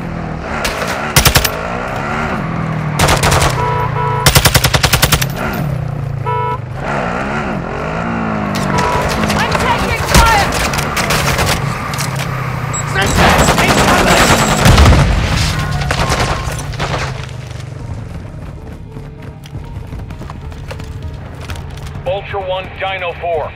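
Bursts of automatic gunfire and heavy booms from a Call of Duty: Modern Warfare 2 DMZ match on Aishika Island with a TAQ 56 rifle, loud clusters of rapid shots between quieter gaps, with radio voices and a vehicle drone underneath.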